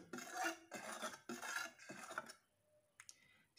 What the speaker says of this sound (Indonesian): kita aduk kita larutkan dulu